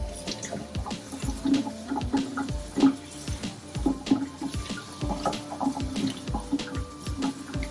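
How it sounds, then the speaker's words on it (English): Tap water running and splashing over aquarium filter parts being rinsed of built-up debris, a continuous close splashing with irregular knocks and clatter as the pieces are handled. "all I'm doing is I'm just rinsing everything out"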